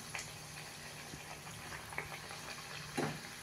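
A multigrain bhajani vada puffing up in hot oil, a soft, low bubbling with a few brief pops and crackles, quiet and steady, with no talk over it.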